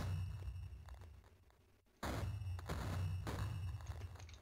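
Low, muffled Minecraft explosions boom in a rumbling burst, with a sudden loud blast midway followed by further thuds, fairly quiet overall.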